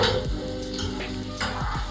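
Prawns frying in a hot pan for creamy garlic butter prawns, a steady close sizzle with a few stirring scrapes and clicks.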